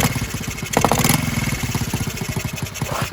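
A Honda Z50R motorcycle engine with a leaking cylinder head runs steadily nearby, its rapid even putter unbroken throughout, with a brief louder rise partway through.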